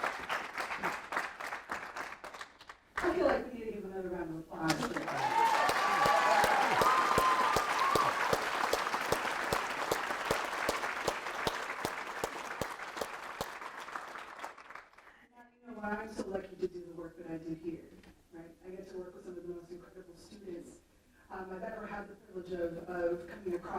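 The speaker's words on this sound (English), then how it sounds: "I feel like we need to give another round of applause." An audience at a lecture on race and justice breaks into sustained applause lasting about ten seconds, framed by a speaker talking before and after over a microphone.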